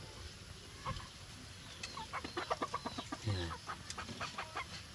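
A rooster just caught in a trap, somewhat wounded, gives short clucking calls in a rapid run close by, with a low grunt-like note partway through, over faint outdoor background and a brief spoken word.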